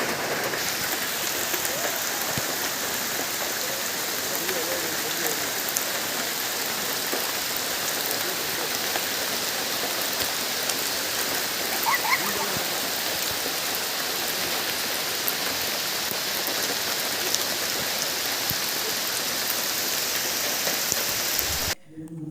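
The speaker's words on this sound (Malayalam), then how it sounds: "നല്ല മഴയാണ്, വീഡിയോ എടുക്കാനൊക്കെ പറ്റുന്നില്ല." Heavy rain falls beside a river in a dense, unbroken roar that lasts throughout, with faint voices now and then beneath the downpour.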